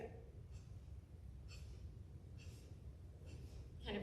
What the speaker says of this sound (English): Kind of a rhythmic breathing.